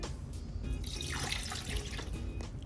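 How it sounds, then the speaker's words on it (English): A cup of water poured into an Instant Pot for cooking chicken, a soft close trickle and splash with small drips, fairly quiet and continuous for a couple of seconds. "Add 1 cup of water"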